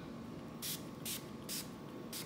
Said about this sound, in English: I'm gonna spray a little bit on there